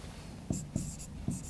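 Chalk or marker tapping and scratching on a board during a reasoning class, three short strokes with a quieter scratchy tail, close by and alone.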